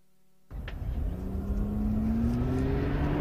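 A car in an 80 km/h collision avoidance test starts up suddenly from silence, giving a steady, loud engine drone and road rumble as it accelerates, with its pitch climbing gradually and no talk over it.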